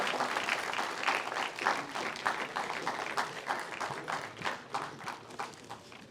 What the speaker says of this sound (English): Kindly keep the applause going,